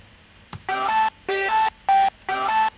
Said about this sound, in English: I chopped up the vocals just using MIDI slices.